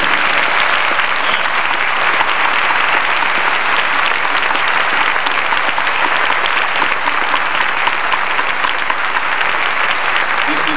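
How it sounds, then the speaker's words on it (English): Loud, sustained applause from a large concert audience at Uihlein Hall fills the whole stretch, dense and unbroken. "how about another round of applause for all of the fine students who performed this afternoon?"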